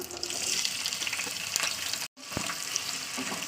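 Chopped onions fry in hot mustard oil in a wok with a loud, constant sizzle, a momentary gap and a light clank of stirring.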